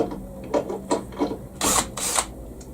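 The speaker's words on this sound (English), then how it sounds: "Let's just get these two screws out" Two screws being removed from the wooden framework of a model railway layout in a loft: a series of short mechanical whirring bursts from a screwdriver or drill, close and distinct, ending in two louder longer runs.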